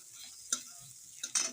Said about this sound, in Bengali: এই যে দেখো নিম বেগুন ভাজছি